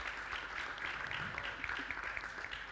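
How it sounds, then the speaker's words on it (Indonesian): Audience clapping at a Jogja Semesta gathering, a brief, moderately soft burst of scattered hand claps from a crowd, fairly even across the short stretch. "Tepuk tangan untuk kita semua."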